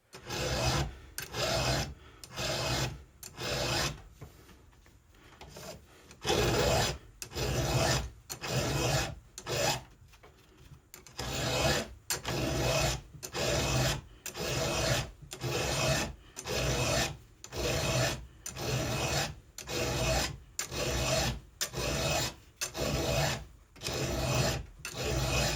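A file rasps across a chainsaw chain in steady, regular strokes, each stroke a short scraping burst followed by a brief pause, repeating evenly and close by throughout with no talking.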